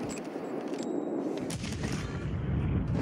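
A grenade blast in a first-person shooter video game, with rumbling explosive booms and gunfire-like cracks in a dense, loud, continuous battle din.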